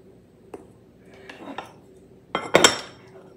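Butter scraped from a butter dish with a knife while cooking a peanut butter mix, with a few soft clinks, then a louder cluster of scraping and clatter of utensil against dish, close by.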